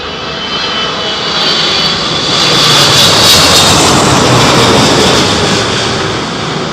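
A plane landing in strong wind at Heathrow Airport gives off a loud, steady roar that swells toward the middle and eases slightly at the end, with gusty broadband noise all the way through.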